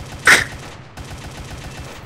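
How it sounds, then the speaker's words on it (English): Gunfire in War Thunder as players shoot at a tank, one loud sharp shot followed by quieter rumbling game noise. "There's three of us shooting at it."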